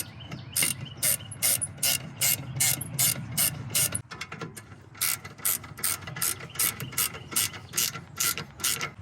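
A ratchet tightens the brake caliper bracket bolts on a Subaru Forester, giving rapid, close metallic clicking in repeated bursts with a short pause between runs.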